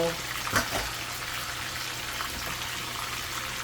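Food sizzles steadily in a pan while being browned golden on both sides, a soft continuous crackle with a brief louder pop near the start.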